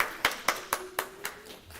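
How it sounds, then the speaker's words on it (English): A small audience claps for a presenter, Yolanda Bonner, at a climate justice fellows session: about six sharp, evenly spaced claps, close and fairly faint, from what sounds like only one or two people, with no talk. "Give a round of applause for Yolanda."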